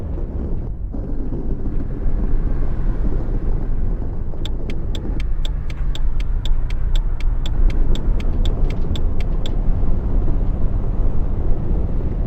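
A steady engine drone from a car in a PS5 driving game runs throughout as it pulls into a gas station, joined midway by a quick series of evenly spaced high beeps lasting several seconds.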